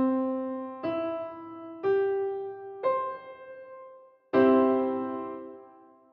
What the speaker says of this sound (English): And if we play these four notes together on the piano, it sounds like this.